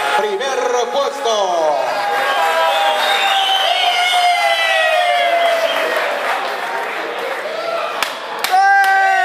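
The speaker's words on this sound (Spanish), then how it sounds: "Fuerte los aplausos para los campeones, los corvineros, primer puesto." A crowd at a champions' celebration in Pilar, Paraguay applauds and cheers loudly and steadily, with whistles, shouts and raised voices layered over the clapping throughout, and a brief lull before a final burst.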